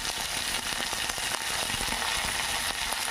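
Coriander and curry leaves sizzle in hot oil for Telugu tomato pappu, a steady close crackling hiss with scattered pops throughout.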